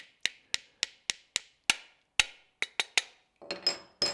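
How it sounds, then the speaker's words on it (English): Nylon mallet tapping a trigger housing pin into a Glock pistol frame: about a dozen sharp, close, evenly spaced taps, followed by a short burst of rubbing, scraping handling noise. "nylon mallet there, I can get in pretty close with this thing"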